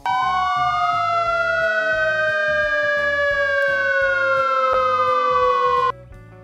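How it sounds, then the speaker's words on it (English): Fire engine siren wailing loud and close, a steady rising and falling electronic tone with strong harmonics held for about six seconds before cutting off, backed by a repeating musical beat. "Fire engine."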